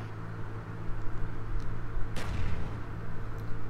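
A grenade blast in a multiplayer shooter game: one sharp, loud burst around the middle, trailing into a brief rumble over a steady noisy background.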